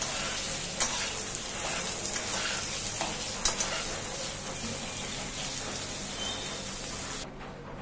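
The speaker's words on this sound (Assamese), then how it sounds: "এয়া মই পনীৰখিনি ভালদৰে ব্ৰাউন হ'লে ভাজি ল'ম" Steady close-up sizzling of paneer browning in hot ghee, with occasional clicks and pops, continuous throughout before cutting off near the end.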